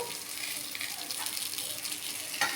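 Fish pieces sizzle steadily in a Healux pan with one spoon of oil, a continuous close hiss with a brief louder crackle near the end, no voices.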